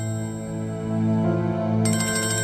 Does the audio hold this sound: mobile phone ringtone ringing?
yes